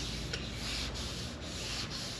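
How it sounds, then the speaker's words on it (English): Wet sandpaper rubbed by hand over car paint in an outdoor parking lot, a steady soft scraping hiss with faint rhythmic strokes, quiet and continuous with no talk. "Now if you want to try hand sanding, when you do it by hand, try and use the heel of your hand, not your fingers."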